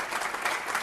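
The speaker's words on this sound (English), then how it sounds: "please give yourself a round of applause" A short burst of audience applause for volunteers at a National MS Society annual celebration, a dense wash of many hands clapping together without talk.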